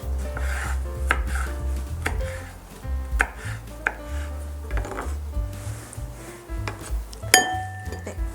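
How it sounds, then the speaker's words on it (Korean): A knife chops cherry tomatoes into small pieces on a wooden board in a home kitchen, with quick, irregular taps and occasional clinks of dishes close by, and no talking. "방울토마토가 있으면 이렇게 썰어가지고 좀 잘게 썰어"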